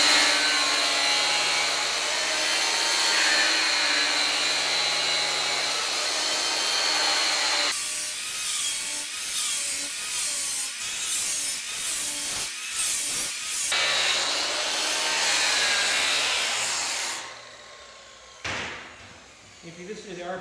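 Power sander working a wooden handrail nearby, a steady loud whir whose speed and pitch shift as pressure and pace change, with abrupt changes partway and near the end as it eases off.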